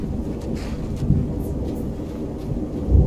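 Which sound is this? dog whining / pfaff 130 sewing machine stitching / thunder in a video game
thunder in a video game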